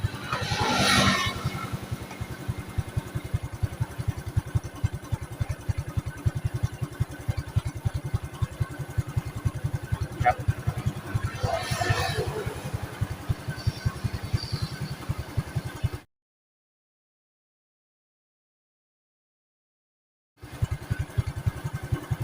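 Honda Wave 110i motorcycle engine idling after starting, a steady close putter with even rapid pulses and a couple of faint clicks, running alone, cutting out briefly to silence before resuming.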